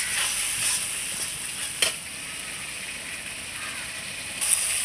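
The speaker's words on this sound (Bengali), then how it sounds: "এই হলুদ লবণ দিয়ে খুব সুন্দর করে কষিয়ে নেব মশলাটাকে।" Spice paste with turmeric and salt fries in a pan during catfish curry cooking, a steady bright sizzle with a couple of sharp scraping stirs standing out.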